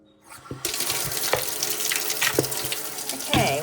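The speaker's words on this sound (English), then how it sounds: "Let's run some hot soapy water." Hot soapy water runs from a tap into a kitchen sink, starting after a quiet moment and then gushing steadily with splashing and clinks against dishes, close and loud.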